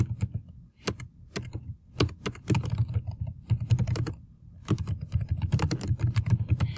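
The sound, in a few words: typing on a computer keyboard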